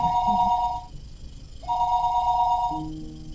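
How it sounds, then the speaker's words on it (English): A telephone bell ringing downstairs in a house, two long rings separated by a short pause, clear and moderately loud with no voices. "phone rang noisily downstairs"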